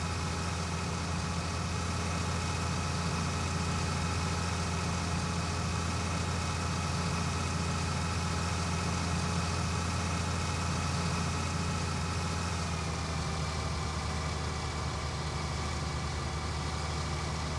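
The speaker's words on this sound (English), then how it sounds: "I don't think I've seen a small diesel engine here in the U.S. that would be mobile like that." A small mobile diesel engine runs steadily in a farming game, a constant low droning idle that holds an even level throughout.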